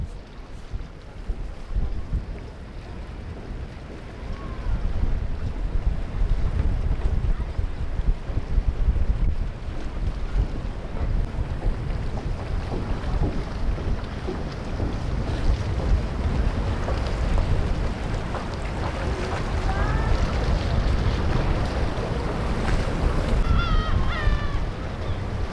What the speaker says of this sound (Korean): 바다 왔어요